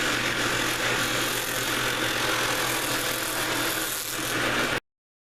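A cordless polishing wheel buffing with green compound, a steady, loud motor whir with a faint grinding texture that runs for about five seconds before cutting off abruptly.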